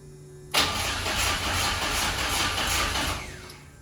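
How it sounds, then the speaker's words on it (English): A car engine abruptly cranks and catches with no throttle applied, then runs loud and close with a steady rumble for several seconds before easing off near the end. "I think it's gonna start up without needing to put throttle."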